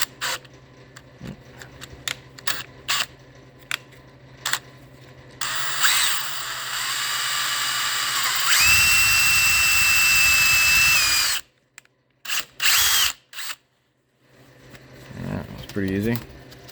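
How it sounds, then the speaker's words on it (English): Power drill boring with a larger bit during side skirt removal on an Audi B5 S4, preceded by clicks and handling noises, then a loud sustained whine of several seconds, a pause, and short bursts before quiet. "Alright, got the drill loaded with another bit."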